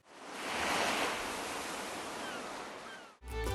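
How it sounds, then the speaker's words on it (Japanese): Steady ocean surf ambience set as the room background sound in an Animal Crossing house, a broad continuous wash of waves that swells early and holds, then cuts off abruptly near the end before resuming. "環境音は海にしておきます"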